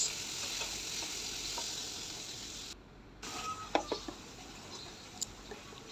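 Tomato and green chili sizzle in a frying pan of oil, a steady close crackle that briefly dips quiet before picking up again with a few sharper pops and clinks of stirring.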